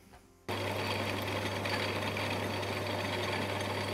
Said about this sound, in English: I've ground a little bit of relief into that cutter and it is cutting so much nicer now